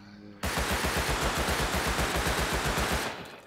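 A rapid automatic weapon in the game Rust fires one sustained burst of about two and a half seconds, loud and close, with evenly spaced shots hammering in quick rhythm before cutting off.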